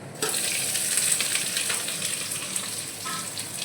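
Chopped onions hit a pan of fried garlic and break into a loud, steady sizzle that starts suddenly and keeps hissing evenly, close up, with no talking.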